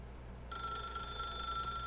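A telephone starts ringing in the video game The Stanley Parable, a bright electronic ring cutting in abruptly over a quiet hum and holding steady, with no voices.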